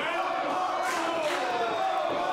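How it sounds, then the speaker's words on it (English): Wrestling fans roar continuously at a Dingo Invitational independent show, a dense, loud crowd wash with swelling cheers and whoops, without clear speech. "he's hearing the roar of that crowd"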